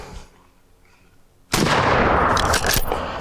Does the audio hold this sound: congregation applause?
no